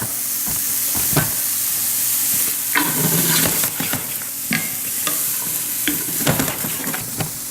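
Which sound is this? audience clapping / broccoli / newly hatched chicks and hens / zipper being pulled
broccoli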